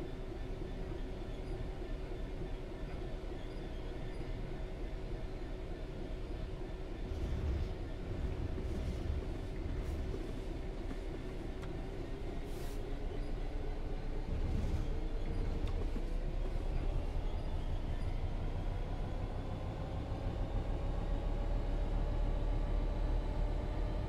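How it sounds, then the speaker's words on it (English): A train in a video game passing very close on the Goblin Suffragettes line, a loud, sustained rolling rumble with droning tones that shift midway as it goes by. "You never really want to get this close to a train."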